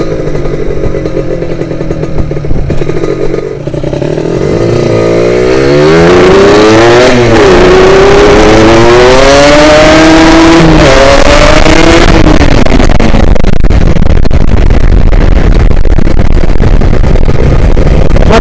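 Kawasaki Ninja motorcycle engine revving hard, the pitch sweeping up and down in repeated climbs before settling into a loud sustained high-revving roar, very close and alone.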